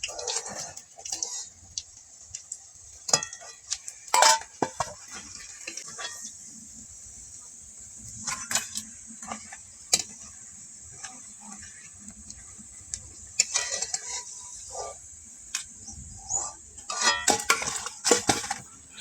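Metal utensils clink and scrape against a pan as fried pumpkin leaf chops are turned and lifted out one by one, producing scattered sharp taps over a steady sizzle of oil, with no talking.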